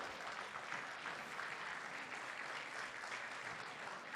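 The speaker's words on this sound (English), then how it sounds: "Please welcome them with a round of applause." An audience at a Gita Jayanti celebration claps to welcome young violinists to the stage, a brief, steady, fairly faint round of many hands heard from a distance.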